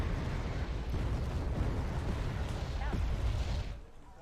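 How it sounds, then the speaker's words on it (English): Mortar fire and shell explosions in the real-time strategy game Wargame: Red Dragon form a dense, continuous roar of rumbling blasts that stays loud throughout and cuts off abruptly just before the end. "so I immediately mortar it"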